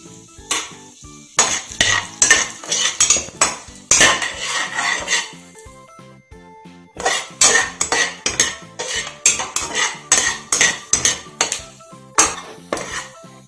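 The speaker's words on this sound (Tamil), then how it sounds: "இது எல்லாத்தையும் நம்ம இதில் ஆட் பண்ணி லைட்டாக வறுத்து எடுத்துக்கலாம்" Whole spices and cashews clatter in a metal pan as they are lightly roasted for vegetable biryani, with a spoon clinking and scraping in quick repeated strokes, close and fairly loud, pausing briefly midway.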